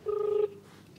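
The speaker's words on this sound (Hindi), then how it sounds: "सत्यनारायण जी शर्मा को फोन यहाँ लगाया जा रहा है।" Telephone dialed on loudspeaker: a single steady electronic tone of about half a second, close and clear, then quiet line hiss.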